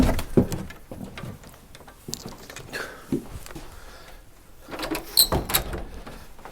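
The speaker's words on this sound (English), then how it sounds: "whatever that was knocking on this right here, on this particle board right there" Scattered knocks on particle board during a ghost-hunting session: a few sharp raps spread across several seconds against faint room noise, with no one speaking.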